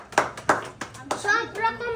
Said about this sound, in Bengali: রোহানের জন্য একটা জোরে হাততালি দাও সবাই